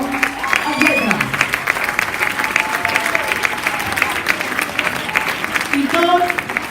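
An audience at a school Sant Jordi performance breaks into sustained, dense clapping throughout, while a person speaks over the applause.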